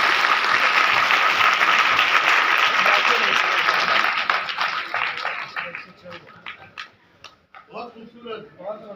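Dense applause from a stage audience for a Kathak dancer, loud and sustained at first, then thinning into scattered individual claps as it fades, with voices talking over the end.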